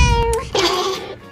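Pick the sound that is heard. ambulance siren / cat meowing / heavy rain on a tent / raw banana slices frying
cat meowing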